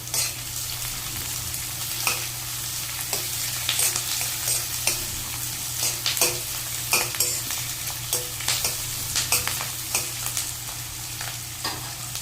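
Onions fry in wood cold-pressed groundnut oil with a constant low sizzle, broken by frequent spatula scrapes and clinks against the pan, plus a faint steady hum beneath.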